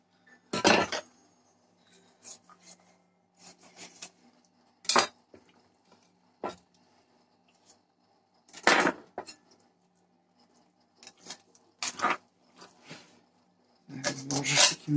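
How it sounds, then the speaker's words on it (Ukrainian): Small sharp hatchet chopping a carp on a board in a home kitchen, a series of separate close thuds and scraping cuts at irregular intervals, with a rough rasping burst at the end. "Не з руки, но гостре, як рубає, такий сікірчик, як рубає, так і ріже."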